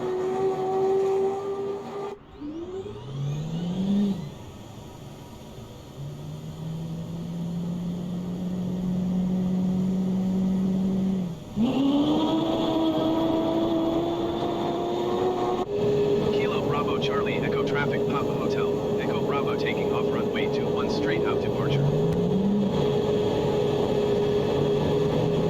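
F-15 Eagle jet engines in Microsoft Flight Simulator 2020 spool up with a rising whine that settles into a steady, droning roar, surging again several times as the thrust climbs.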